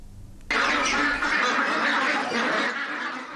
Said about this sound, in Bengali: কুড়িগ্রামে জনপ্রিয় হয়ে উঠছে চীনের পেকিন জাতের হাঁস পালন